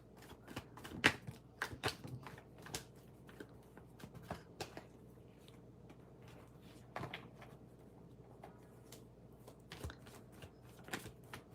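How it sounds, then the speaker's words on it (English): A deck of tarot cards is shuffled close by, a busy run of soft rustles, riffles and small snapping clicks in a quiet room, irregular in rhythm, with no voices. "Give me one moment to shuffle a little bit more."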